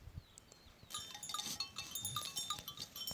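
Several overlapping bleats from a flock of ewes with lambs, close by, starting after a quiet moment and continuing in an uneven chorus with some bird chirps.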